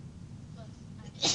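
One sneeze bursts out near the end, sharp and hissy, against the low murmur and room noise of a lecture hall.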